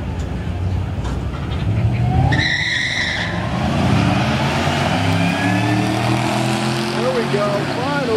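Close by at a Memphis International Raceway test-and-tune session, a drag race car engine revs and whines hard. A brief screeching burst comes early, and rising tonal sweeps follow. Voices are heard over it.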